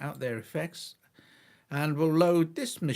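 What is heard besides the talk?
No everyday noises stand out.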